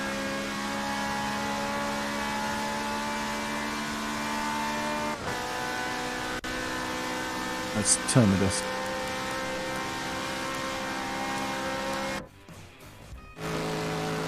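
A Jaguar race car's engine in a Le Mans endurance racing video game holds a steady, loud droning roar with harmonic whine and a brief rising rev, and a voice speaks over it.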